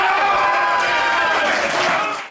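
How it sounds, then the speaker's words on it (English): Crowd at an amateur football match between New Milton Town and Bemerton Heath Harlequins roars and applauds after a goal-saving tackle, a broad, steady swell of cheering and clapping that holds loud for about two seconds before dropping away. "what gets a bigger cheer than a goal? Yep, it's a goal-saving tackle."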